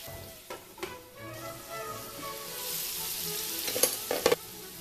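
Bacon-wrapped asparagus frying in a lidded pan, a soft, even sizzle throughout, punctuated by a few sharp clinks and knocks, the louder ones clustered near the end.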